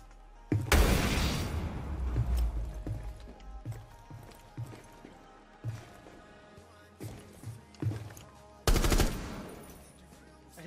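Video game gunfire in Rainbow Six Siege: two loud bursts of rapid shots, one near the start and another toward the end, with scattered lighter impacts and footsteps-like knocks between them.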